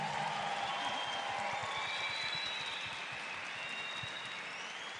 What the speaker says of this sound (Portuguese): Uma salva de palmas para a ministra Damares